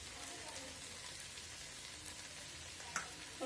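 Beans, mushrooms and capsicum frying with cooked potatoes in a pan for a mixed vegetable dish, giving a steady, moderately faint sizzle with a couple of brief clinks near the end.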